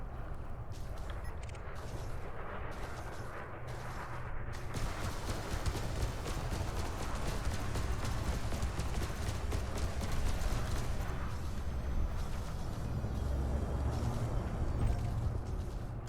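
Rapid gunfire from police ships in the space combat game Elite: Dangerous rattles continuously over a dense, loud bed of engine rumble and weapon noise, intensifying after the first few seconds and holding steady throughout.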